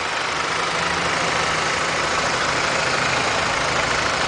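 BMW Z3 engine idling with the hood open, a steady, even, smooth running hum close up with no change in speed and no talking.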